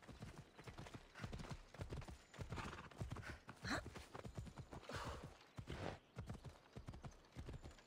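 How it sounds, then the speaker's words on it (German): Horse hooves clip-clop steadily in a rapid rhythm while riding in Assassin's Creed Odyssey, close and moderately loud, with an occasional whinny and brief bits of someone talking. "Los, komm hier, Pferdchen."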